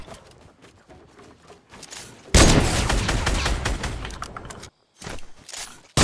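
Gunfire in the Fortnite video game during a headshot, a loud burst of shots kicking in midway and rattling for about two seconds, then a short gap and further shots, with quieter game noise before it.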